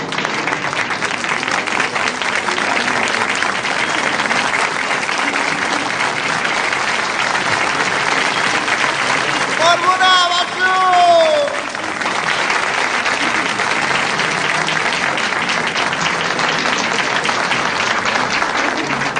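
A large audience applauds steadily for an artist invited onto a stage, a dense continuous wash of clapping that swells briefly near the middle before settling back to an even roar.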